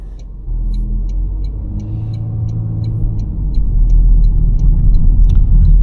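Steady low engine and road rumble inside a 2024 Toyota Corolla driving at night, growing slightly louder and heavier toward the end, with no talking.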